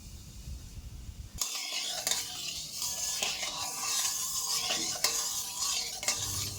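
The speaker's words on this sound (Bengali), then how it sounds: "কড়াইতে সরিষার তেল দিয়ে দেব। জিরে আর তেজপাতা দিয়ে ফোড়ন দেব।" Cumin seeds and bay leaves dropped into hot mustard oil in a kadai, bursting into a sudden bright sizzle after a quiet start, then crackling steadily with occasional metal clinks of a spoon against the pan.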